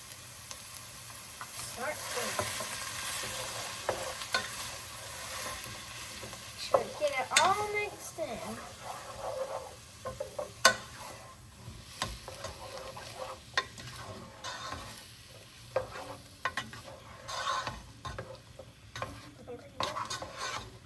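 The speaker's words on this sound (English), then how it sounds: "we're gonna stir that around, and we're gonna let this simmer for a little bit" Homemade chili in a pot being stirred and left to simmer gives a soft continuous sizzle with scattered scrapes and clinks of the spoon against the pot, loudest around the middle.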